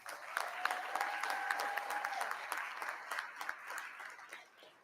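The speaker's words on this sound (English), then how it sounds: "Let's all give them a round of applause" Honorees at a board meeting receive applause from the room: a steady patter of many hands clapping at moderate volume, with a faint tonal whine early on, tapering off near the end.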